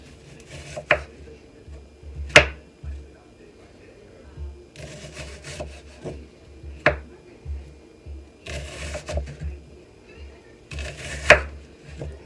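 Knife chopping an onion on a cutting board for New York–style hot dog onion sauce, a handful of sharp, separate cuts spaced a second or two apart, with soft kitchen rustling between them.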